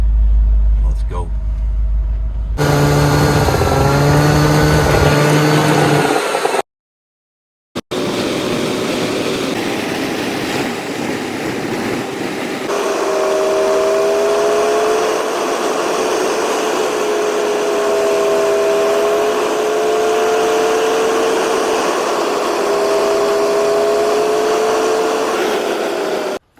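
Go-kart fitted with a snowmobile engine running outdoors: loud, steady droning motor with wavering pitch as it revs, continuous throughout with a couple of brief cutouts, and a voice talking over it.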